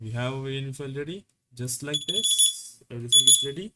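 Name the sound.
alarm going off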